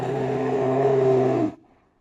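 A recorded bear growl plays as a deep, rough, sustained rumble for about a second and a half, loud and close, then cuts off abruptly into silence.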